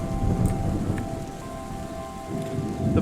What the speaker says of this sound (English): It's just going to keep raining now forever.